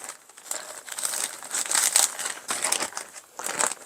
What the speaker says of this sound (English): So I'm gonna be keeping it in a Ziploc bag.